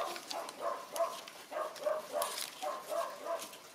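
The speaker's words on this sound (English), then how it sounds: "That's not our dog barking, that's somebody else's dog." A dog barks repeatedly in short bursts, sounding somewhat distant against a quiet background.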